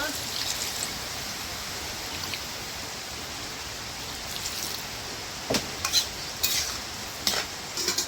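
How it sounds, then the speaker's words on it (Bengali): Water with spices bubbling and simmering steadily in a pan for small fish chorchori with radish greens and red amaranth stems, a continuous close hiss broken by a few louder stirring scrapes near the end. "বন্ধুরা জল আমি দিয়ে দিছি, দেখেন কিরকম ভাবে ফুটতে শুরু হয়েছে।"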